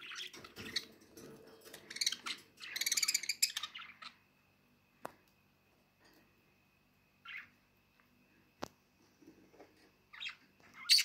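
Pet budgerigars chirp in short, bright bursts, busiest in the first few seconds, then a few scattered calls and clicks with quiet gaps between them, close by and moderately loud.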